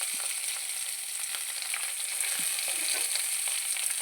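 Green chillies, curry leaves and finely chopped onion frying in a pan give a constant bright hiss with occasional small crackles and light stirring taps, close and steady.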